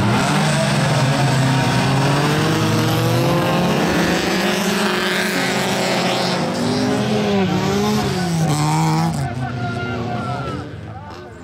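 Race cars at an endurance race in Masquefa, in classes up to 1,600 cc and 2,000 cc, roar past loudly with engine pitch rising and falling through gear changes, then fade toward the end.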